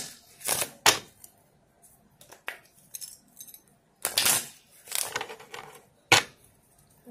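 Oracle cards being shuffled and drawn during a reading, heard as sharp papery riffles and slaps in separate bursts with quiet gaps between, close by and fairly soft.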